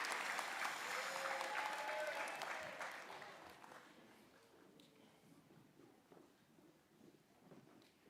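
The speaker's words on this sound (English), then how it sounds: "Another round of applause for this group as they exit the stage" A graduation ceremony audience applauds steadily as a group exits the stage, loud at first and then gradually tapering off into scattered clapping and crowd murmur.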